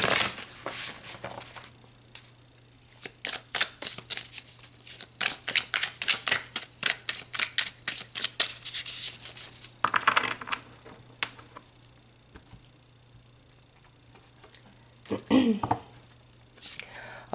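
Tarot cards being shuffled by hand in rapid riffling bursts with short pauses between rounds, close and fairly quiet, followed by a few softer handling noises.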